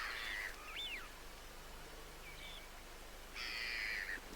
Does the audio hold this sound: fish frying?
no